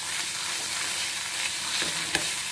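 Onion and black cumin stirred into cabbage leaf paste in a pan: a continuous soft sizzle with scraping stir strokes and a sharp clink near the end.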